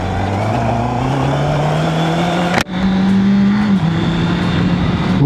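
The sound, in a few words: 2021 Honda CB650R motorcycle riding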